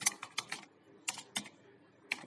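Light typing on a computer keyboard while entering text in Microsoft Word 2013, a handful of separate, close key clicks in irregular bursts, quiet, with no voice.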